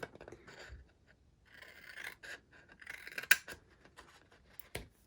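Small scissors snip through paper and cardstock while a mini slimline card is made, giving several close, quiet cuts and light scraping rubs separated by short pauses.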